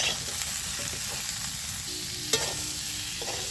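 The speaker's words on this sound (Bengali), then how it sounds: "ভালো করে এবার আমি লাল করে ভেজে নেব পটলটা।" Pointed gourd (potol) frying in oil with salt and turmeric in a kadai, a steady, close sizzle with a few light knocks and one sharp clink of a utensil, no voices.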